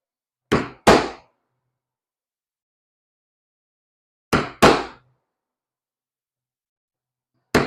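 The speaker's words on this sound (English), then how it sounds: "This is a 1/8 inch punch, 1/8 inch weaver punch." Sharp hammer blows drive a 1/8 inch weaver punch through leather, struck in quick pairs separated by pauses, with one more single hit at the end; close and crisp with silence between.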